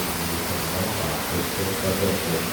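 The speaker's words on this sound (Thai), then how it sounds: "มีน้ำตกด้วยนะพี่น้อง" A waterfall on the grounds of Wat Paknam Phasi Charoen temple gives a steady, dense rush of falling water, loud and continuous, with no voices over it.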